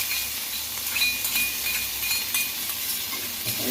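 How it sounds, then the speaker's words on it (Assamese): Small fish frying in a pan with ginger, garlic and chili, a steady soft sizzle with occasional stirring scrapes and light clinks of a utensil. "এইখিনি এতিয়া অকণমান এনেকৈ ফ্ৰাই কৰি দিম মাছৰ লগতে"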